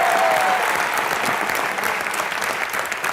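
Studio audience applause on a comedy talk show set, loud dense clapping from a large crowd, sustained and even with a brief tone at the start.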